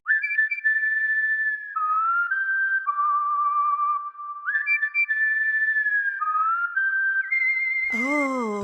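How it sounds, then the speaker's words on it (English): A clear, bright whistled melody of held and sliding notes moves between pitches, ending with a short, harsh burst of a different sound. "I'm sure the whistle will go right here"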